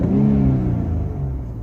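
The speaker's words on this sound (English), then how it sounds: "I'm gonna give it a few revs" Infiniti Q50 Red Sport with its muffler deleted, the engine rising in a single rev to a throaty rumble and then settling back, loud and near with no voices.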